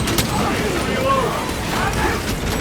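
Weapon reload in Warhammer 40,000 Space Marine 2, with mechanical clicks and ratcheting clacks under combat noise and a shouted voice.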